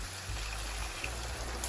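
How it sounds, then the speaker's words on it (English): Half a cup of water pours steadily into a biryani pan for a moment, a soft continuous splashing stream with a low background hum. "So I'm just going to add half a cup of water."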